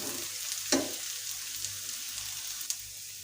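Green chillies frying with onions in a pan, a quiet even sizzle with a couple of sharp utensil taps against the pan, close and with no speech.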